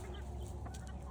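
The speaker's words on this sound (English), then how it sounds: "We got a turkey fight going on or something here. Turkey's going after one of the chickens," Chickens cluck continuously over a steady low hum while a turkey goes after one of them beside a chicken tractor, the bird calls close and moderately loud with a few brighter squawks near the end.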